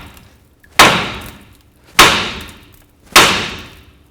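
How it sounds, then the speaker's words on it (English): Three sharp metallic impacts as a hammer strikes the steering knuckle of a 2004-08 Ford F-150, at an even pace about a second apart, each ringing briefly before fading, with no talking. "we're going to use our hammer and we're going to hit right along here on the knuckle"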